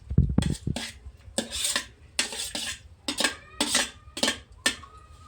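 Roasted eggplant being pounded and crushed in a pan for Khandeshi bharit, with a series of sharp metallic clanks and scraping strikes in an irregular rhythm, close and fairly loud with no talking.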